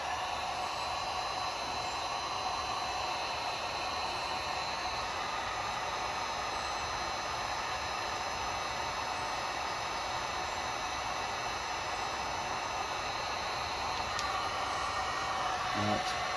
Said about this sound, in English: This heat gun is too hot.